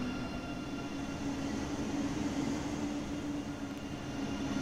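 An ICE 3M BR 406 high-speed train in Train Sim World 4 runs steadily, giving a continuous even rumble with a faint electric whine and no distinct events, heard from inside at moderate loudness.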